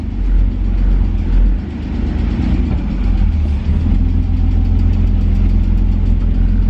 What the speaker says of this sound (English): Lifter tick is crazy.